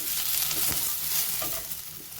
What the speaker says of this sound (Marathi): त्यानंतर घालूया ह्या आल्याच्या चकत्या थोडंसं परतून घेऊया